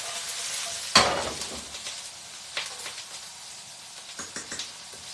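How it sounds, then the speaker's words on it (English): Soy sauce is splashed into a frying pan over high heat while Indian-Chinese dishes are cooked. It hits with a sudden loud sizzling hiss that fades, followed by quieter crackling and the scrape of stirring, close up with no talking. "And then I'll add a dash of soy sauce just to bring everything together and deglaze it"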